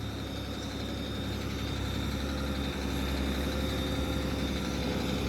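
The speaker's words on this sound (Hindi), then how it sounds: "ट्रैक्टर की आवाज सुनती होगी तुमने" A farm tractor on a large Canadian farm runs steadily nearby with a continuous low engine drone and idle rumble, alone and without talk.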